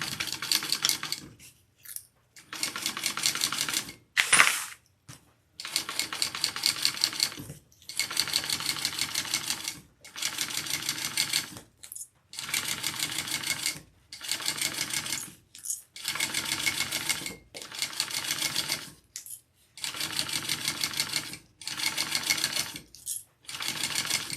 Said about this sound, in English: Now sew the whole length.